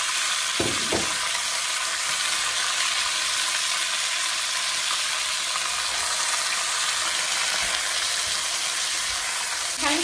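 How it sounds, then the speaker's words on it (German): Beef chunks for boeuf bourguignon sear in a hot pan with a loud, constant sizzle and crackle. A couple of brief knocks come near the start and at the very end. "Und jetzt werden wir das richtig schön scharf anbraten."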